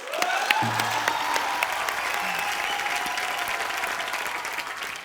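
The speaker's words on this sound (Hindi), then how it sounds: "ताली।" Studio audience applause on a Hindi comedy talk show, a dense steady wash of many hands clapping together that carries on at full strength, with a faint voice briefly under it.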